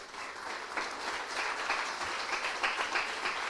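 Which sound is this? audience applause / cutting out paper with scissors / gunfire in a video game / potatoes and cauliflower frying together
audience applause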